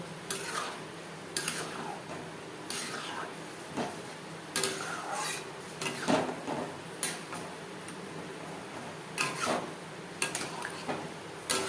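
A spoon clicks and scrapes against a pan while moong dal is stirred into spices, in repeated uneven taps and rubs, close and fairly quiet, with no talking.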